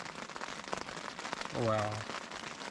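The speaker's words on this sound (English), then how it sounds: "It's kind of nice sometimes just to lay here and listen to the rain on the tent." Rain patters steadily on a tent during a night camp on the Colorado Trail, a soft continuous wash under close, quiet speech.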